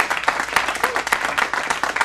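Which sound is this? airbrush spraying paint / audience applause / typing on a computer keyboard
audience applause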